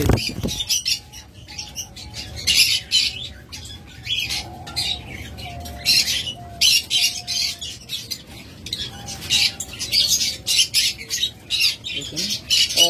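Pigeons squawk and coo in repeated bursts nearby, an irregular chorus of calls throughout with a faint low hum underneath.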